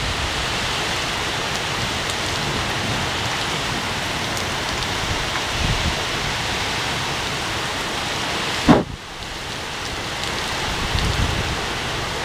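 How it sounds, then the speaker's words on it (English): Heavy rain driven by strong wind in Granby, Quebec, a steady loud hiss of downpour and gusts throughout, with one sharp knock or thump partway through and no talk. "It's raining. Oh my God. Raining a lot."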